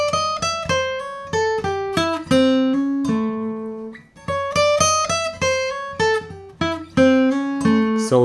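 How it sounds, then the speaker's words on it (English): Bluesy lick on a Furch D acoustic guitar: crisp plucked notes in quick phrases with a short pause midway, close and clear with no one speaking. "So here another bluesy lick."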